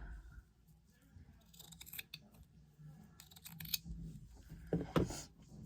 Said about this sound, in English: So I want to put this piece of lace, or at least a half of it. Let me cut it in half.